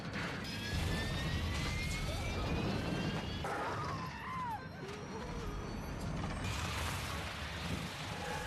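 An airplane shaking uncontrollably in a film scene, heard as a faint, sustained mechanical rumble and rattle with creaking, ratcheting strains and a brief crash-like hit partway through.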